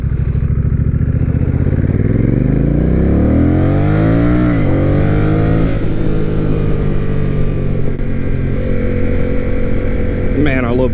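A Honda Rebel 1100 motorcycle with an aftermarket exhaust revs up and down several times, its deep, mellow exhaust note rising and falling loudly and close by.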